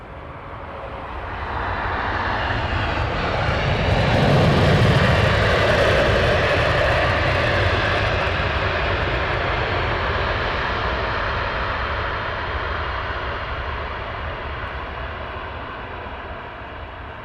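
Airliners landing at London Heathrow Airport, a broad jet engine roar swelling as one passes close, then a long steady rumble slowly fading into the distance.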